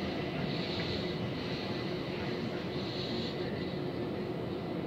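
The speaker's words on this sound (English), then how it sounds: "On London Overground train, Class 3 Simulator, it's a 5 car." A steady, continuous rumble of a five-car London Overground Class 3 electric train in a train simulator game, running along the track with a constant droning hum and no pauses.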